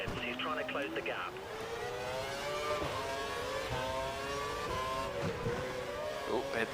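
Formula One race car engine in the F1 2012 video game at the Singapore circuit, high revving whine rising and dropping through gear shifts, steady and fairly quiet throughout, with speech present.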